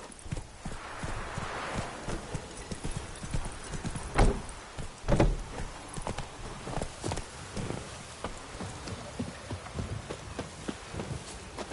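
Roach the horse trots in The Witcher 3, steady clip-clop hoofbeats on ground in a continuous rhythm with a couple of heavier thuds, moderately close and unaccompanied by talk.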